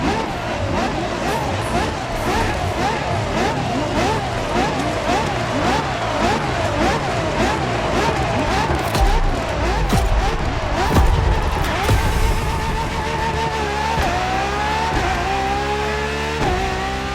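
A LaFerrari hybrid supercar races in The Crew Motorfest, its engine rising and falling through rapid gear changes with tire squeal, loud and continuous, the pitch climbing steadily near the end.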